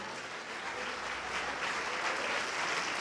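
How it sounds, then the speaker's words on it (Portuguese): A church congregation applauds during a service, the clapping a soft, continuous hiss of many hands heard at a distance, building slightly toward the end of three seconds. "E vamos aplaudir mais ao nome do Senhor."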